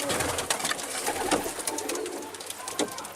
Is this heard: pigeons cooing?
yes